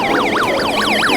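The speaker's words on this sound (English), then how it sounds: "I will test the siren on it just so you guys can hear it" A Forza Radio's built-in siren alarm wails loud and close on its test setting, with a fast, steady up-and-down sweep like an emergency vehicle siren.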